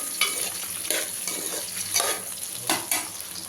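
Steady sizzling of masala stir-frying in a pan on a low flame for an ivy gourd curry, with periodic scraping strokes of a spatula at a loose rhythm, close and fairly loud, no voices.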